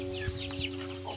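Small chicks clucking and cheeping softly inside a chicken coop during cleaning, with a few brief peeps over a steady background hum.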